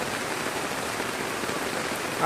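Heavy monsoon downpour over a flooding neighbourhood beside a pond, a dense, even hiss of rain beating on surfaces, steady and close throughout with no speech.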